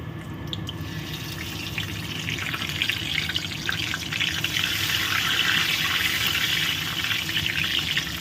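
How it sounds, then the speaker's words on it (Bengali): Whole garam masala and two bay leaves frying in hot oil in a pan: a steady, close sizzling hiss that swells slightly and crackles throughout, with no talking. "এবারে দেখো, একটু তেলের মধ্যে দিয়ে দিচ্ছি গোটা গরম মশলা, আর দেব দুটো তেজপাতা"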